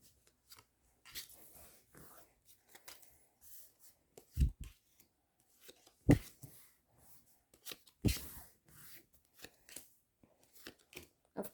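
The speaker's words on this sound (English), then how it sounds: "the cards are being dealt" Playing cards are dealt at a poker table in a series of quiet, separate slaps and flicks, with short gaps of near silence between them.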